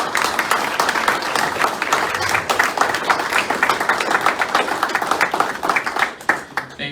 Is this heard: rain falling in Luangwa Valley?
no